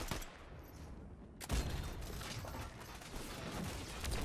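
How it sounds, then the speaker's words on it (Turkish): Rapid bursts of assault rifle fire from an enemy in a video game, a steady dense clatter of shots running throughout with a sharper loud burst partway in, no talking. "Aa şuradan biri sıkıyor. Taarruz tüfeği var."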